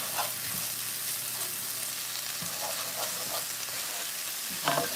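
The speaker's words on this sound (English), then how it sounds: "So we're going to get the spinach cooked up a little bit here." Spinach sizzles steadily in a hot pan while being cooked for breakfast fried rice, a continuous close frying hiss punctuated by occasional stirring scrapes and clicks.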